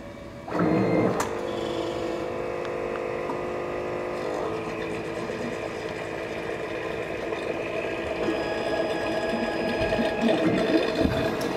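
An AmMag SA automated sample processor hums steadily as its magnets and nozzles move back to the wash station, a continuous close mechanical whir with motor whine and faint shifting tones throughout.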